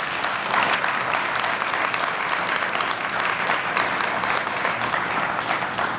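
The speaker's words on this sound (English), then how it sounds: "Ladies and gentlemen, please give those folks a round of your applause." An audience at a city's State of the City address in Fairmont gives sustained applause, a dense, even roar of many hands clapping at steady loudness from start to finish.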